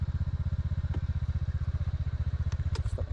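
Motorcycle engine idling or cruising at a steady low-pitched putter with even rapid pulses, close and continuous, with a few faint clicks and clatter near the end and no talking.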